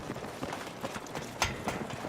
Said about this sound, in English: I did hear a footstep.